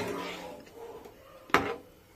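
A lid set down on a pot of simmering lentils gives one sharp close clank near the end, after a stretch of soft kitchen rustling and faint movement.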